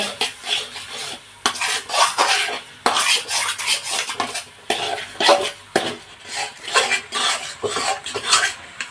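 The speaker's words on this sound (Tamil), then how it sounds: "ஜீனி போட்டு அதை சேர்த்து கலக்குங்க" Sugar being stirred into a gram flour and ghee mixture for ghee Mysore pak, loud close scraping strokes of a ladle against the pot in an uneven rhythm, with a soft sizzle underneath.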